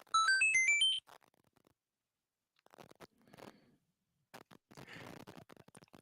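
A phone text-message notification chime plays as a quick, bright run of rising and falling electronic notes lasting about a second, followed by quiet, scattered crunching and rustling noises.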